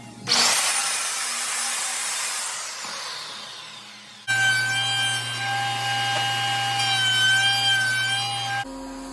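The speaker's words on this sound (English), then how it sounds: "so I just drilled 2 holes, front and then center and back" A power drill bores holes into MDF for bolts, making a steady loud grinding whine that shifts pitch partway through as it cuts, heard close with no talking.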